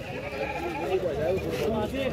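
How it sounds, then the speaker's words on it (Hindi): Goats at a busy Friday livestock market in Ajmer bleat in wavering cries amid dense crowd noise and people talking nearby. "ये हमारे गांव के बकरे"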